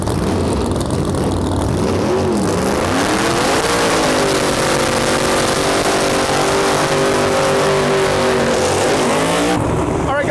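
A drag racing car tears down the strip at full throttle in a Lights Out race, a loud sustained engine roar rising and holding in pitch before easing off near the end, with no talking.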